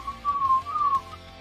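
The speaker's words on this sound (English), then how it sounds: "Quit whistling in the microphone." A short, wavering whistled tune picked up close on a microphone during a live comic book auction, rising and falling a few times before trailing off.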